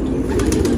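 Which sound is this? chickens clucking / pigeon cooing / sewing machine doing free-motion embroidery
pigeon cooing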